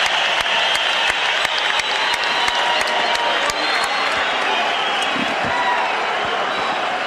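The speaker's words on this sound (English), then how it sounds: "listen to this crowd as they finish the Mexican national anthem." A packed boxing arena crowd applauds loudly and steadily after the Mexican national anthem at Morales vs. Barrera in February 2000, a dense roar of clapping with some cheering and no break.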